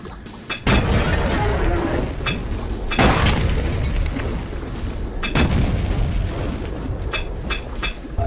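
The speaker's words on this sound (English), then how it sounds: "Everybody eats a pipe bomb." Pipe bomb explosions in Duke Nukem 3D, several loud booming blasts a couple of seconds apart, each with a sharp onset and rumbling tail, up close over a continuous noisy backdrop.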